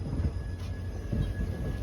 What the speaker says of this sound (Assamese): ট্ৰেইনখন কিমান দীঘল চাওক